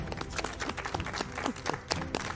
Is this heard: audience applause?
yes